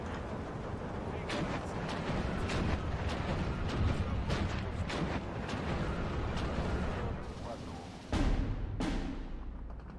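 Mortar firing in the Steel Division 2 video game amid a dense, continuous battle din of booms and distant blasts, with a sharp louder thump near the end.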